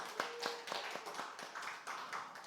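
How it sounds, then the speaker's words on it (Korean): A church congregation claps together in a steady burst of applause, with sharp overlapping claps filling the room and no voices on top. "우리 아인이 축복하면서 박수 한번 하겠습니다"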